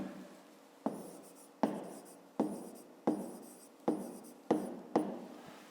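A pen writes on paper during a fifth-grade math lesson, heard as a close series of about eight quick scratchy strokes at a steady rhythm, each starting sharply and trailing off, with no voice over them.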